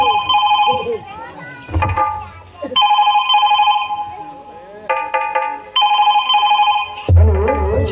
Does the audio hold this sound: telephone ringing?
yes